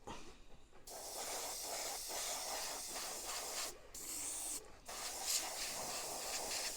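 An airbrush sprays paint into a small cardboard paint booth while painting a 1/6 scale Armortek Hetzer Jagdpanzer 38. It makes a close, steady hiss that cuts out twice briefly before resuming.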